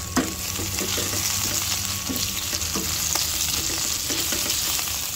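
Longganisa sausages sizzle steadily in a pan, a continuous bright frying hiss with scattered pops and a few utensil scrapes, close and fairly loud throughout.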